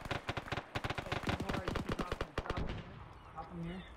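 Rapid gunfire from ARMA 3 rattles in tight, fast bursts for about two and a half seconds, loud and close, then fades into a quieter tail with faint tonal sounds.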